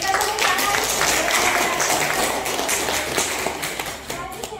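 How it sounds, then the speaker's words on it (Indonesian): Applause from a classroom audience at an Indonesian university chemistry lecture, a dense steady patter of many hands clapping throughout, loud and close, tapering slightly near the end. "Berikan tepuk tangan."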